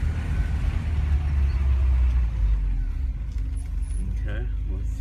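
A car pulls away after a check of the gears and clutch, with a low engine rumble throughout and faint jingling and rattles, while someone talks over it.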